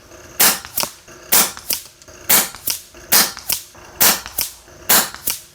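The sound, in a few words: FX Wildcat air rifle shots at 100 yards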